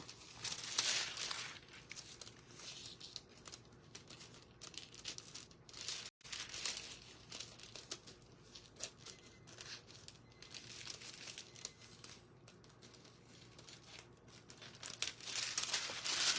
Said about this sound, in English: I'm cutting out some foils